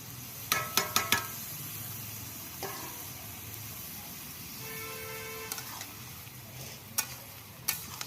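Previously fried broccoli goes into a pan and is stirred, with a soft background sizzle broken by several sharp clinks and scrapes of a utensil against the pan, including a quick cluster near the start.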